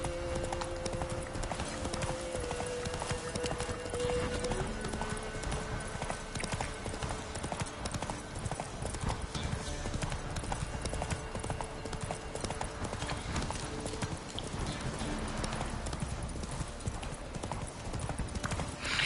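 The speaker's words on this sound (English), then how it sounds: "Run, Roach" Rhythmic hoof clip-clop of a horse galloping in a video game, steady and continuous throughout, with game music and ambience underneath and a brief whinny.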